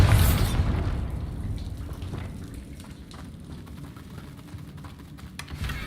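A Bombarda blasting spell detonates in Hogwarts Legacy with a loud, booming burst at the start that decays into a long rumbling, crackling tail of debris over several seconds.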